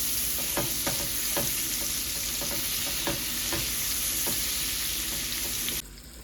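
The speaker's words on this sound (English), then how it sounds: "after I've been sauteing my onions for a while" Onions sauté for pork chops in a pan, giving a loud, steady sizzle with scattered spoon scrapes and taps that stops abruptly near the end.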